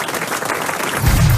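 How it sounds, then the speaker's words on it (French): A studio audience at a French radio comedy show breaks into a short burst of applause, a dense wash of clapping that swells slightly toward the end. "Allez, on vous applaudit, Michel."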